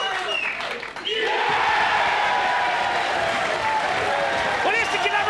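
A pool hall crowd at the 1995 Mosconi Cup roars into loud cheering, whoops and applause after a winning shot, sustained and close, with a commentator talking over it.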